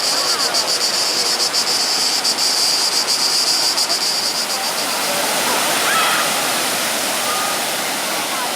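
A river waterfall roars in a steady, loud wash of falling water, continuous and close, with a high shimmering hiss layered over it throughout.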